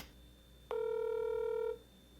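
A phone call rings out to a friend: after a quiet line, a single steady electronic ringback tone sounds for about one second, then stops, leaving faint background hiss.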